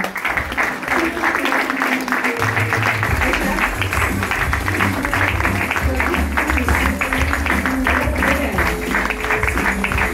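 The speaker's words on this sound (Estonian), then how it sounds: "Ja teeme ühe suure aplausi." An audience at a direct-sales presentation applauds loudly and steadily for about ten seconds, a dense wash of clapping with voices and background music mixed in.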